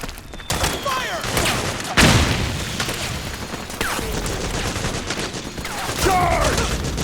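Heavy gunfire from a Metal Gear Solid 4 battle, with dense bursts of rifle fire and booming impacts running continuously, a sharp loud blast near two seconds, and voices shouting over the din.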